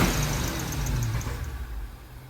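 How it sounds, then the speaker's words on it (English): A car engine on a drift project car revs up and settles, loud and close, with a steady mechanical drone and no talk. "Revs right up."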